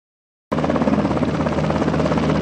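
A Navy helicopter of a sea combat squadron starts abruptly and then holds a loud, close, steady rotor thrum with rhythmic blade chop and engine drone, with no voices.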